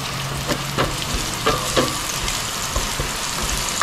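Garlic fries in a pan of hot oil alongside ginger for a frog adobo, giving a close, steady sizzle broken by occasional stirring clicks and pops, with no talking.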